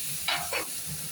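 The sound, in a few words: eggplant added to hot oil, sizzling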